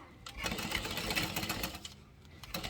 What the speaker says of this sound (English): we're going to stitch all the way around